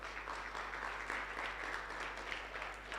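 Steady applause from a summit audience on child justice, many hands clapping evenly at a moderate distance over a low electrical hum.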